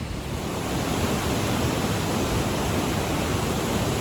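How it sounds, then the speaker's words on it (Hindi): Fast, turbulent Pindari river flowing down from the Pindari glacier in Chamoli, a steady loud roar of rushing water with no pauses and no voices. "देखते हैं नदियों का बहाव कितना तेज है"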